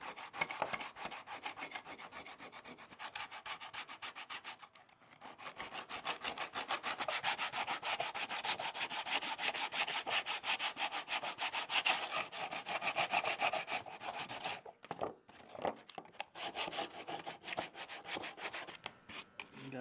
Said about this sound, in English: Now it's time for a little sandpaper, a little 36 grit.